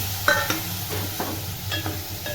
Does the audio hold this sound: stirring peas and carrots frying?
yes